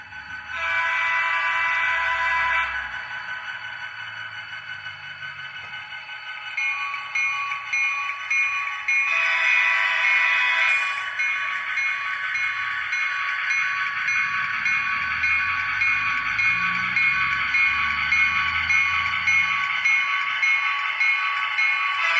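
A model railway train runs on a home layout, its steady mechanical hum and rolling clatter continuing throughout, with a bright, sustained horn-like tone sounding over much of the run.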